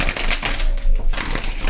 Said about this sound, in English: let me shuffle the cards again